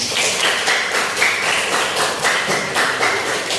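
A classroom crowd at a teaching-practice session claps steadily in a dense, continuous round of applause lasting a few seconds, with no voices standing out.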